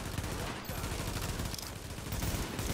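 Rapid gunfire in the shooter video game The Division, dense bursts of shots crackling continuously at a steady, moderately loud level.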